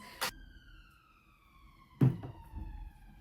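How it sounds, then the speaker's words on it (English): A siren wails faintly in the distance, its tone slowly sliding, with a couple of sharp thumps nearby. "I don't know if you can hear the siren"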